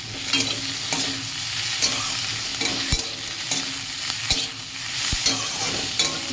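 Leafy greens and chopped vegetables fry in hot oil in a pan with a continuous close sizzle, broken by the repeated scrape and knock of a spatula stirring.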